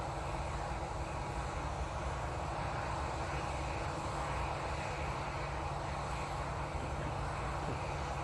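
An IndiGo airliner passing at Manchester Airport, heard as a continuous broad jet roar with a low rumble that stays steady and fairly loud throughout, with no talk.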